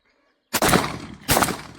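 Two sharp, loud blasts from a Benelli M4 shotgun with a collimator sight, fired with 28-gram No. 7.5 birdshot at a 45-metre target, the shots about three-quarters of a second apart, each followed by a decaying outdoor echo.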